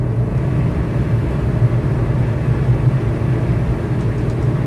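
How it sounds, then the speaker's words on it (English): Steady, loud droning engine hum of an airplane in Microsoft Flight Simulator 2024 career mode, a continuous low rumble with a constant level and no voices. "this plane seems so much louder"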